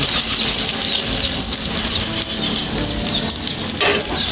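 Sliced cassava crisps frying in hot oil, giving a dense, loud, continuous sizzle with crackling and occasional stirring clatter, no voices over it.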